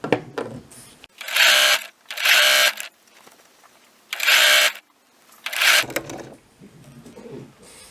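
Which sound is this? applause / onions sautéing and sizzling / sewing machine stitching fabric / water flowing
sewing machine stitching fabric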